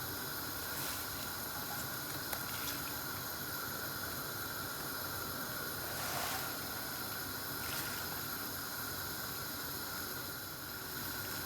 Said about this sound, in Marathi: पाणी चांगलं उकळलेलं आहे. आता आपण याच्यामध्ये पालक ॲड करूया.